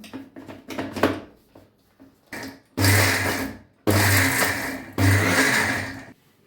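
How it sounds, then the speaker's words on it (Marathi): A mixer grinder blends cooked amla chutney in three loud whirring bursts, switched on and off in pulses, after some quieter clatter of the jar being handled. "चालू बंद चालू करून मिक्सरला लावूया आपण"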